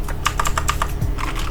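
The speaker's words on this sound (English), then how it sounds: "you go to your browser and type" Fingers typing on a computer keyboard: a quick, close run of crisp key taps with a brief pause before a few more strokes.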